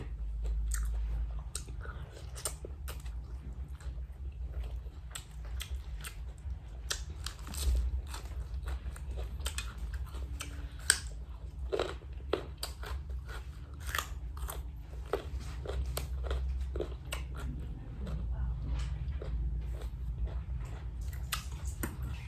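Close-up crunchy bites and chewing of a spicy Thai shrimp and crab salad with fermented fish sauce, with irregular crackling crunches repeating steadily throughout and no talking.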